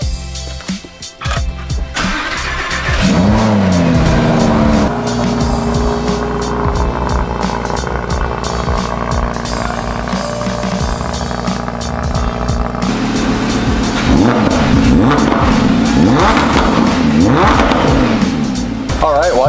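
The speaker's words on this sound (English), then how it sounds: "Ending it with a little rev in the Huracan." A Lamborghini Huracan engine fires up with a loud, close roar, then idles and rises in repeated revs, heavy and continuous to the end.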